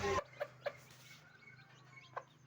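A brooding hen clucks over a clutch of newly hatched chicks, giving a few short, soft clucks in quick succession followed by one more after a quiet gap, with faint high chick peeps in the background.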